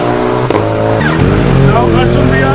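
A 2021 Suzuki Hayabusa with a new Akrapovic exhaust roars loud and close as it is ridden, its engine note climbing through rising revs in a continuous, throaty drone.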